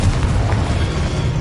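The Incendio fire spell being cast in Hogwarts Legacy on PS5, a short low rumbling burst of flame that roars steadily for about a second and a half.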